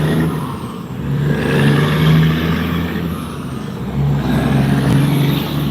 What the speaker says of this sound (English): Sorry, this truck is so loud.